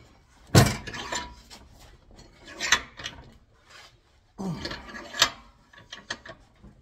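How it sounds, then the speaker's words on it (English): A vise is tightened on a crimping tool, heard as a few close, separate bursts of ratcheting, grinding metal mechanism with quiet gaps between them and no speech. "I'm going to put this inside the vise. And I'm going to tighten it up."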